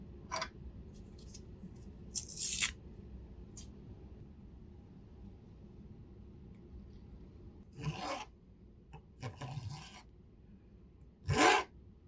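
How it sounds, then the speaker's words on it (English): Filing a reclaimed copper heart clamped in a vice, several short bursts of harsh close rasping strokes separated by quiet pauses, no voices. "At this stage, I'm filing out the rough outer shape of the heart"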